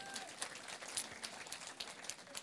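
Scattered audience clapping at a DevOps conference closing keynote, a steady patter of hands at moderate distance with no voices over it.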